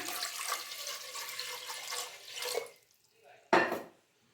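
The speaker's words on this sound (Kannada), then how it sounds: "ಮೊದಲಿಗೆ ಕುಕ್ಕರ್ಗೆ ಒಂದು ಸ್ವಲ್ಪ ನೀರು ಹಾಕ್ಕೊತಿದ್ದಾರೆ" Water runs steadily into a pressure cooker in a home kitchen, then trails off, followed by a brief sharp metallic clatter of the pot.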